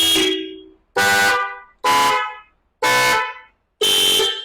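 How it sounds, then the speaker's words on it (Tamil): An aftermarket car horn blares five times in a steady rhythm, loud and close, each honk fading quickly before the next. "இந்த ஹாரனோட சவுண்ட்ஸ் கேட்டிருப்பீங்க"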